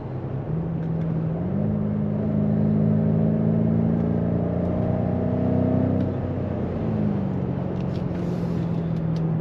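A 600 hp BMW M5 F90 on a road test: a steady engine hum heard from inside the car, rising and falling gently in pitch as the car drives, with no talk.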